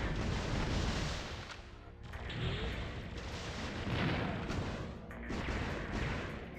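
Repeated cannon blasts in a retro console game, dense rumbling booms filling the clip almost continuously with brief dips between volleys, loud and close.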